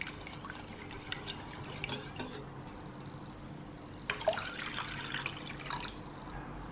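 Water poured into the wet ingredients and egg for Taiwanese-style egg crêpe batter, heard as a quiet intermittent trickle and drips that grow livelier toward the end, with no talking.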